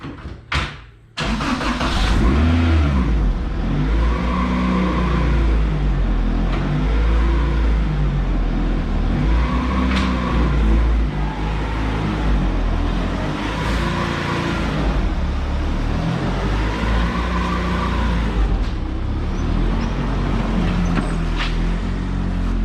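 A J-swapped Honda EK sedan starts up and runs on its first drive, a loud close engine with a steady mid-pitched drone that rises and falls in repeated swells as it pulls away and shifts.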